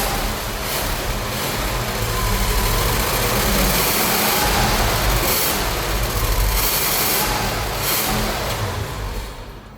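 A heavy Ford Thunderbird's 460 cubic inch V8 rumbles loudly and steadily for about ten seconds, alone and close, with a deep broadband engine roar and slight swells in intensity.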